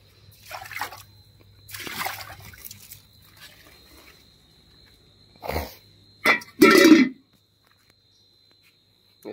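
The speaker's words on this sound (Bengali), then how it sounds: "এই জলটা আমি ফেলে দিচ্ছি এখন।" Water poured out of a container indoors, a few short splashing bursts near the end, each brief and close, separated by quiet stretches.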